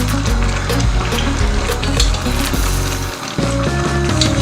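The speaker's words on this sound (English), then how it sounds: "now I wash my parboiled rice" Parboiled rice is washed in water for palm oil jollof, giving a continuous loud sloshing and splashing with rattling grains and bumps against the bowl, close up and without talk.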